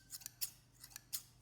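Scissors sharpened with toothpaste snipping in several quick, crisp cuts, each a short bright metallic shear, close and clear with no talking.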